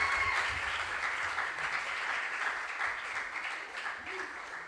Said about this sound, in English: A round of applause for Hilda.